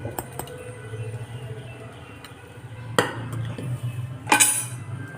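Pot of mutton curry (thanni kuzhambu) lifted off a kitchen stove: soft scraping and handling, then a sharp metallic clank and a bright clatter of vessels, close and fairly loud.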